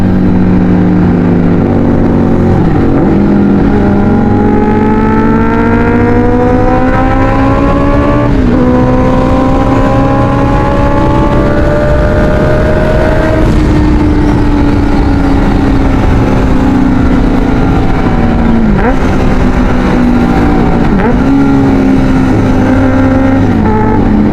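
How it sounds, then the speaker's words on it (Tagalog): A QJMotor SRK 600 RC inline-four motorcycle with an R11 exhaust screams loud and close, its engine note climbing through repeated rising revs and gear changes over about twenty-four seconds. "Grabe talaga sumigaw ang mga inline 4 mga buddy."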